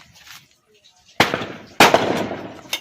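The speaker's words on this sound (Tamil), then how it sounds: "இப்படி வெடியே போடுறாங்க" Firecrackers burst nearby in two sharp, loud crackling volleys followed by a smaller pop, after a quiet stretch with faint background noise and no clear talk.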